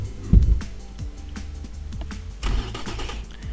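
A simulated car engine in the video game Automation idles steadily with a low, even hum, with a louder thump early on and another brief swell midway.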